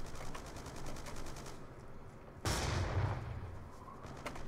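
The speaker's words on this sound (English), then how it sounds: "Somebody's shooting at me." Gunfire in Black Ops 2 multiplayer on PC: a steady run of rapid automatic shots under game ambience, then a louder, closer burst of heavy fire partway through.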